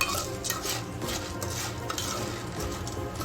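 Popcorn kernels stirred in hot oil in a pan, a steady scraping and clinking of a spoon against the pot over a soft continuous sizzle, close and even throughout.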